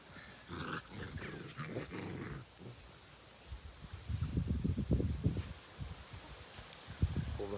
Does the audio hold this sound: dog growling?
yes